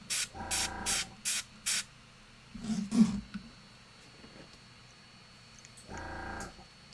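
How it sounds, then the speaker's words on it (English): Short hissing bursts from an airbrush spraying paint onto a miniature Sister Novitiate's small crown, several quick pulses at the start and another burst near the end, close and moderately loud with quiet pauses between. "I forgot to spray her head thingy, her little crown."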